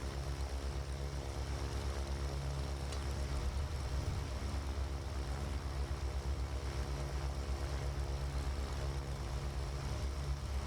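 Right engine of a Cessna Chancellor 414 spinning up in the MSFS 2020 flight simulator, a steady, even piston drone with a low harmonic hum holding level throughout, no voices.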